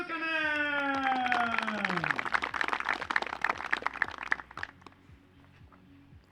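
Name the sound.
audience applause for a disc golf player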